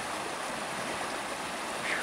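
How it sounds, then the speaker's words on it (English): High water rushing along Oak Creek, a steady broadband wash of flowing stream heard close and continuous, with no voices over it. "I've made my way back to the creek."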